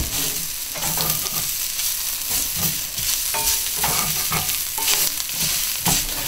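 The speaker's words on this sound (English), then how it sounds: "you're sitting on YouTube watching me stir vegetables" Vegetables sizzle loudly in a hot frying pan while being stirred, a steady close crackle broken by scraping stirs throughout, with no voices.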